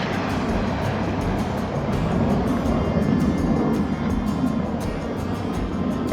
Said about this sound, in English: A lot of plane traffic over town today.